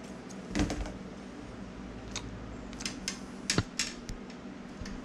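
Scissors trim braided fishing line close to an FG knot with a few sharp, close snips and small clicking handling noises between them.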